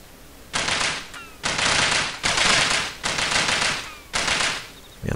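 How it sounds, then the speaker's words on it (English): M240 or modified M60 machine gun fire in Delta Force, heard as five long, loud sustained bursts separated by short pauses, each a dense rattling stream of rounds. "I like the sound of that. I think it's a 240. Or it could be a modified M60."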